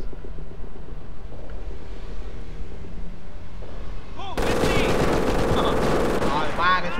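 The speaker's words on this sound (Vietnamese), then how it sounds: "ba cái súng máy nó bắn một lúc" Machine gun fire in the battle game Company of Heroes, rapid bursts of gunfire and explosions against low battlefield rumble that grow louder and denser partway through, with no talking.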